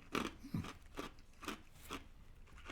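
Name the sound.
chewing on ice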